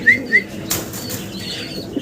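Lahori pigeons beating their wings in a couple of quick close flutters, with faint chirps and a soft rustle between; no talk.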